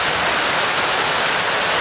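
Drainage pumps push water into a lake in a below-sea-level subdivision ringed by levees, producing a steady, loud, broadband rushing roar with no break, like a close waterfall.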